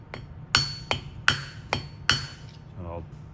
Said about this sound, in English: So I'll tap it out part way on one side and then I'll rotate to the other side.